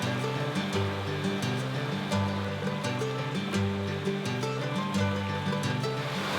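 A creek in the Adirondacks cascades over small waterfalls into deep potholes and pools, a steady, full rushing of water that holds constant throughout, close by with no voices.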